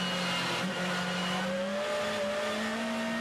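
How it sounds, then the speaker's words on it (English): A WTCC touring race car skids during a 2016 race in Russia, its tyres squealing in a loud sustained whine over the steady engine drone, with no voices in the moment. "That was just a bit of a skid."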